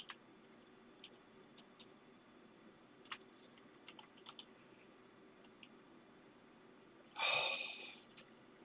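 Password being typed on a computer keyboard, sparse scattered key clicks at irregular intervals, faint and close, with a loud breathy exhale or snort near the end.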